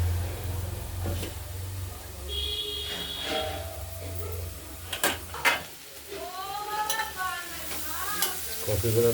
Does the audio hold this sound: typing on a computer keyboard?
no